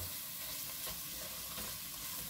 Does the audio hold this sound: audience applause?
no